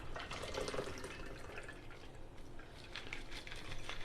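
An apple cocktail of cinnamon sugar and lemon juice is poured into a glass, a steady close liquid trickle and splash lasting a few seconds with no talk over it.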